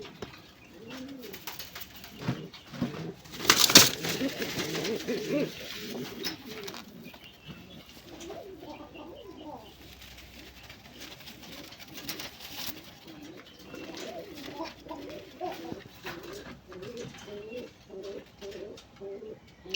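A domestic pigeon gives a steady series of low, rolling coos, repeated in close rhythmic phrases nearly throughout, close and fairly loud, with a brief noisy burst early on and almost no talking.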